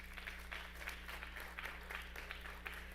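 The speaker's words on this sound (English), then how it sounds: "Another round of applause for our Unity dancers." Faint, distant applause rises for the Unity dancers at a Women's History Month school assembly, a thin steady patter of clapping over a low electrical hum.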